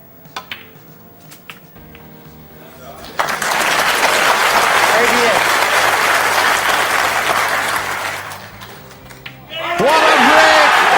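A snooker crowd bursts into loud sustained applause with cheering after a maximum break, fading briefly and then swelling again, while a commentator talks over the quieter start.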